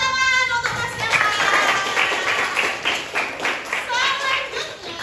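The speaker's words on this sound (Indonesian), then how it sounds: "Tepuk tangan untuk Mas Kemal." Students in a classroom clapping for a classmate, a few seconds of scattered, brisk hand claps at close range, with voices and a tonal sound mixed in.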